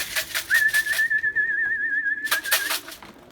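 Homing pigeons let out after two weeks shut in flap their wings in quick, loud bursts nearby, pausing in the middle, while a long steady whistle sounds across the gap.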